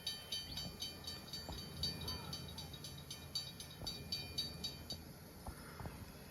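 An outbound Metrolink commuter train in the Train Sim World 5 game passes the Barrel Springs Road crossing in Palmdale, with rhythmic wheel clacks over rail joints and a steady rolling rumble, fairly close and loud.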